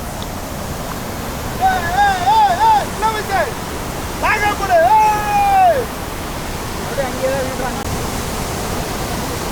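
Steady broadband rush of a waterfall on the flooded Noyyal River fills the whole clip, with a voice talking loudly over it in the middle.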